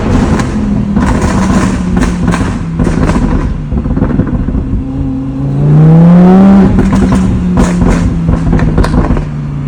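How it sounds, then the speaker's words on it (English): Tuned Lamborghini with an aftermarket exhaust revving hard, a loud close roar rising and falling in pitch, with a sustained high climb midway and crackling pops and burbles between the revs. "I do actually have an exhaust on this vehicle to make it just that little bit louder so I can terrorize the streets"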